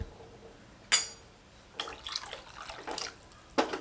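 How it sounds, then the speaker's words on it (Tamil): Water is poured into a pan of egg kuzhambu curry, giving a few short splashes and a brief run of pouring and sloshing, fairly quiet. "இப்போ 400 ml அளவுக்கு தண்ணி சேர்த்துருக்கேங்க."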